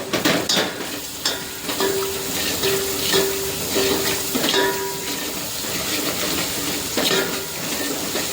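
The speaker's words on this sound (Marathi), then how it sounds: "तेल थोडं गरम झालं, लसूण चांगलं परतून" Garlic frying in hot oil in a pan, a continuous bright sizzle with stirring scrapes and light clinks of a utensil, close and fairly loud.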